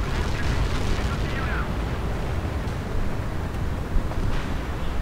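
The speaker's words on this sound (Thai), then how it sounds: "ไอระเบิดนั่นยิงมาจากอาร์เซนอลเบิร์ดนะครับมันกำลังบินมา" Dense barrage of explosions and booms from the Arsenal Bird in Ace Combat 7, a continuous rumbling roar with scattered sharper blasts, loud and filling the scene.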